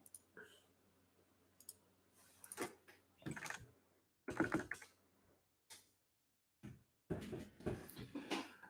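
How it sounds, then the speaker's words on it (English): A computer keyboard rattles against a mouse pad in sporadic, faint clicks and taps, close by in an otherwise quiet room. "My keyboard is kind of ricketing against my mouse pad."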